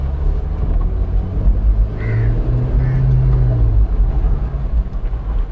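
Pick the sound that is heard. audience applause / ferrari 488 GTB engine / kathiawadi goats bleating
ferrari 488 GTB engine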